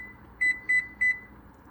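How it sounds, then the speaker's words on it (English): Kitchen timer being set while making brownies gives three short, clear electronic beeps in an even rhythm, close by and alone in a quiet kitchen. "just hit the kitchen timer, and it will start counting down."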